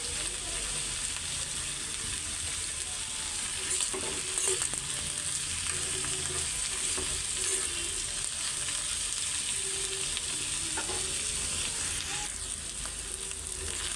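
Bitter gourd slices fry in a generous amount of oil, giving a steady, close sizzle that runs throughout, with occasional scrapes and clicks of stirring and no talking.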